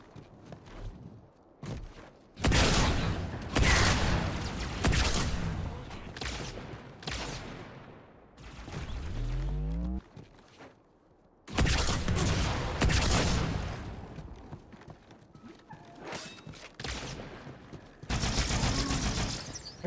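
Halo 2 Anniversary gunfire on legendary difficulty comes in loud, rapid bursts that cut off abruptly, separated by brief quieter gaps with scattered footsteps.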